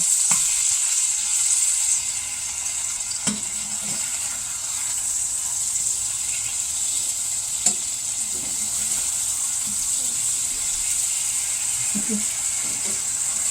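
Potatoes sizzle steadily in a frying pan, a constant hiss with occasional soft stirring or flipping clicks throughout.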